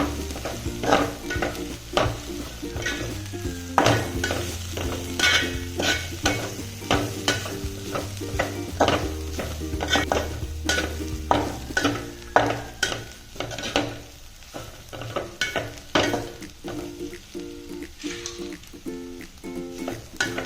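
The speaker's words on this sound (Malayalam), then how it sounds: "ഇതെല്ലാം കൂടി ഇട്ട് നമുക്കിതൊന്ന് വഴറ്റിയെടുക്കാം" Onion masala with fennel powder and garam masala is sautéed for an egg curry, a loud continuous sizzle broken by frequent rhythmic clanks and scrapes of a spoon against the pan, close and busy throughout.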